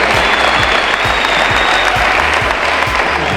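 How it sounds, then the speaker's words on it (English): Steady, dense applause from an audience at a school signing ceremony for a Texas track athlete, close and continuous, with a low thumping hum pulsing regularly beneath the clapping. "Let's give her a round of applause."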